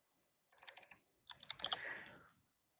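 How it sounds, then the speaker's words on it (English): Quiet, close bursts of typing on a computer keyboard: a short run of light key clicks, a pause, then a denser flurry of keystrokes, with no talking. "and then type in filler."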